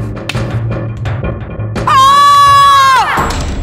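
In a Hindi television drama, a person lets out a loud, sustained high-pitched scream lasting about a second, preceded by scattered knocks and thumps, with no talking during the cry.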